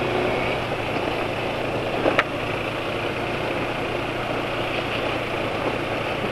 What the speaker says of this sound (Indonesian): ya suara mesinnya seperti ini ya.